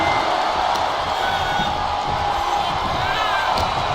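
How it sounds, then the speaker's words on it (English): A packed crowd roars steadily through a live WWE wrestling match in an arena, a dense continuous wall of cheering and whooping with no breaks. "Packed crowd on their toes."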